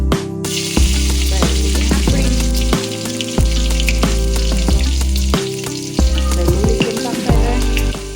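Mustard seeds crackling and sizzling in hot coconut oil on a home stove, a loud continuous frying hiss with popping bursts and pulsing, shifting tones, heard close with no talking.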